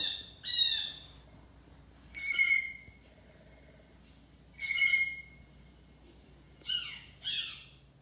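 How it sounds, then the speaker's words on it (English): Birds give loud, harsh squawking calls in about five separate bursts, some double, with quiet pauses between them. "Some of the sounds they make are, of course, are calls to call to each other."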